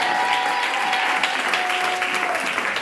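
A church congregation at a spiritual revival service bursts into brief, loud, dense applause and cheering that fills the room evenly for a few seconds.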